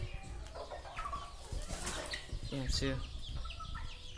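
Backyard chickens with nearly grown chicks, plus guinea fowl and bantams nearby, cluck and call in short bursts at close range, with a person speaking briefly over them.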